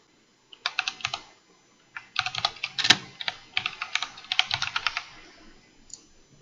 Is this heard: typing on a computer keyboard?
yes